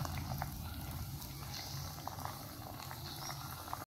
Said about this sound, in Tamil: சேர்த்ததுக்கு அப்புறம் அப்படியே லைட்டா கிண்டி விடுங்க.